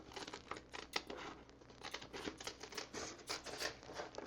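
Scissors snip through paper while a teacup shape is cut out for a mixed media piece, producing quiet, close, irregular crisp snips and rustling.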